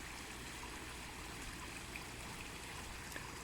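A garden waterfall trickles over rocks in a clay-soil yard, a steady, quiet wash of running water that continues evenly throughout with no voices.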